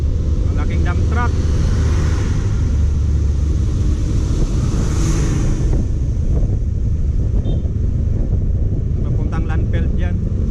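A large dump truck drives along a bumpy highway toward a landfill, heard from a nearby vehicle as a loud, steady engine and road roar with heavy wind buffeting the microphone throughout.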